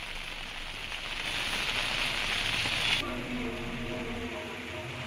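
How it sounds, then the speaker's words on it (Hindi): Steady monsoon rain falls in Chamoli, a continuous hissing wash that stays fairly loud throughout and shifts in tone partway through. "आप देखिए मेरे पीछे किस तरीके से अभी भी लगातार बारिश का दौर जारी है"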